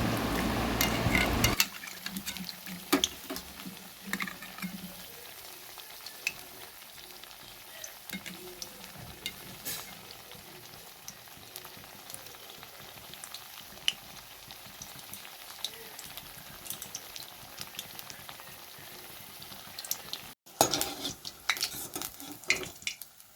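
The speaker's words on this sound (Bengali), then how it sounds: "এইভাবে একে একে আমি সব কটা কুমড়ো বেসনে চুবিয়ে ভেজে নেব।" Pumpkin slices dipped in gram flour batter fry in hot oil, giving a steady soft sizzle with scattered crackles and pops and a few louder clatters at the start and near the end, with no talking.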